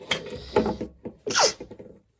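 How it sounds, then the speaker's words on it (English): A single close sneeze indoors during a projector unboxing: a quick intake of breath, then a sharp burst, followed by a short trailing sound before silence. "Sorry for the sneeze."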